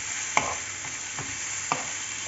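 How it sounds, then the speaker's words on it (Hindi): A faint, steady frying hiss from rice and vegetables in a pan for khichdi, with two or three brief spoon clinks against the pan. No one speaks. "इसको डालें और चावल को भी कर लें फ्राई"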